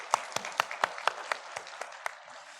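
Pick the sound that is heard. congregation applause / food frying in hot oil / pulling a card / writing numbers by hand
congregation applause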